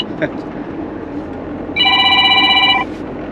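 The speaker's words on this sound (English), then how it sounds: "I'm expecting phone to ring now." A telephone rings once, a short bright electronic trill rising clearly over low room noise and background chatter in a sandblasting workshop.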